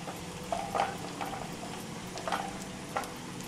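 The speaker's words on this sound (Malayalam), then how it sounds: "നമുക്കിനി കാഷ്നട്ട് ഇട്ട് കൊടുക്കാം." Cashew nuts dropped into hot oil with ginger and garlic for a Kerala-style dragon chicken, crackling softly in the pan with scattered pops and the light scrape of stirring, fairly quiet and with no voices.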